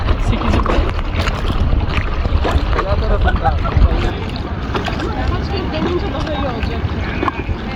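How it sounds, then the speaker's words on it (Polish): Wind and choppy water wash around a stand-up paddleboard at sea off Alanya on the Turkish Riviera as a large ship passes, a loud rushing roar under excited talk. "duży statek płynie"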